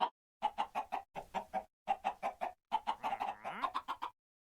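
Chickens in the Minecraft Bedrock video game cluck in short, clipped bursts. The close, rhythmic clucks come in quick groups separated by brief silences, with no talking.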